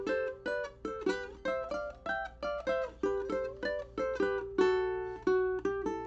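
A ukulele's bright plucked strings play a repeating melodic riff, each note ringing briefly before the next, soft and close with a steady rhythm.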